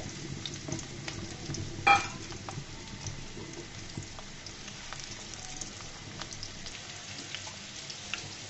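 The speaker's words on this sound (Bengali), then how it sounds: "দেখুন বন্ধুরা, এই পর্যায়ে আমি আলুটাকে ভেজে নিব।" Potatoes fry in a pan with a soft, even sizzle throughout, marked by one brief clatter of a utensil early on and a few faint ticks and pops.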